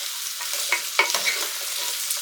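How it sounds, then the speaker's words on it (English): Chorizo, onion and celery sizzle in a pan while being stirred, a steady close frying hiss broken by scraping, clattering stirs, with no voices. "I'm going to fry that for 5 minutes"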